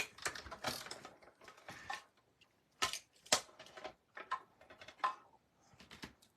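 A hand-cranked die-cutting machine feeds paper pieces through, producing a series of quiet, irregular ratcheting clicks and gear rattles in short bursts with brief pauses between them.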